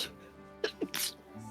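A single sharp human sneeze during a gaming session, close and brief after a short intake of breath, then a quiet voice afterward.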